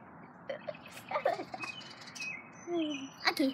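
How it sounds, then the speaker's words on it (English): Small bird giving a few quick, high chirps and tweets scattered across a few seconds, faint and fairly distant over a low background murmur. "That must have been a bird."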